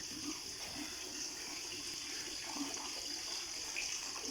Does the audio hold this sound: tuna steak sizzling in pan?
no